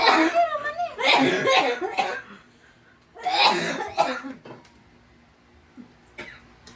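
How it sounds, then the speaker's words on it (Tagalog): Two bursts of harsh, repeated coughing up close, separated by a quiet gap, with a few faint clicks afterward. "Ang lagi ubo."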